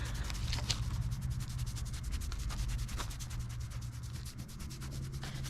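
Hand scratching a horse's coat during a morning check, a steady close rubbing and brushing texture with rhythmic strokes running throughout, no talk.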